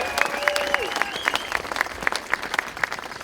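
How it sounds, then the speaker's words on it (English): Crowd at a community celebration day applauds the family, steady clapping with sharp individual claps standing out, while a brief whistle or whoop rises over the applause early on. "How about a round of applause for the family?"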